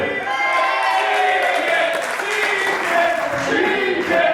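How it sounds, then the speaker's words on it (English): Crowd at a wrestling show cheering and applauding, a sustained roar of voices and clapping that holds at a steady loud level throughout. "Listen to this crowd, they love him."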